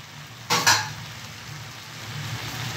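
Soaked shrimp stirred in a frying pan, with two quick scraping strokes up close followed by a soft, continuous sizzle.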